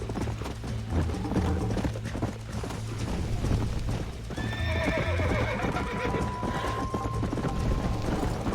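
A horse in Red Dead Redemption whinnies loudly over steady, rhythmic galloping hoofbeats, with game ambience filling the background throughout.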